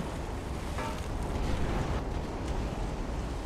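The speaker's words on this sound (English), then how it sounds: "So I'm actually going to start firing on his heavy cruiser with my main guns." Warship main guns fire at a heavy cruiser in the naval game Ultimate Admiral: Dreadnoughts, a dense low rumbling roar of distant heavy gunfire rolling on continuously without distinct separate blasts.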